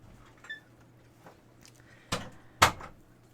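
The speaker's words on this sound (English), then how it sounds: "Yeah, I can shut the door." A door is pushed shut indoors with two close, sharp knocks, the second one louder, after some faint handling clicks. No one talks.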